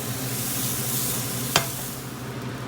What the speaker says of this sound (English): you're gonna put a little spoonful of margarine butter and then just spread these around